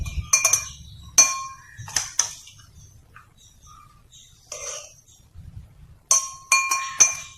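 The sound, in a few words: chopped fruit added into falooda glass, clinking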